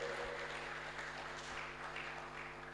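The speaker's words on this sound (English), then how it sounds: "Can we give another round of applause to the representatives, please?" Steady clapping from an audience at a surgical scientific conference in Tanzania continues throughout, over a low constant hum in the room.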